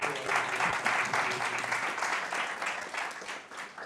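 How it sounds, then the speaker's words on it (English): A big round of applause from the crowd at a global youth retreat welcome session, many hands clapping warmly and steadily, tapering slightly toward the end, with no speech over it. "So a big round of applause for all."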